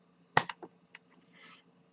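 One hand slaps against another, giving a single sharp, close smack followed by a few faint softer taps in an otherwise quiet room.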